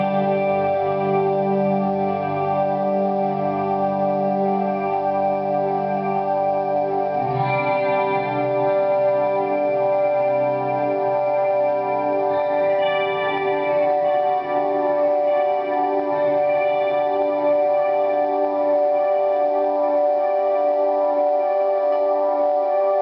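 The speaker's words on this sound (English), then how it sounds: "This is going to be a chorus with some ambient delay," An electric guitar plays through a Damage Control Glass Nexus pedal set to chorus with ambient delay and a little reverb, shimmering sustained chords that swell and wash together, loud and continuous throughout.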